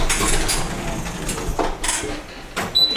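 Doors on a Great Western Railway train open at a platform, giving a run of hissing, clattering mechanical bursts with short pauses between them, ending on a brief high beep.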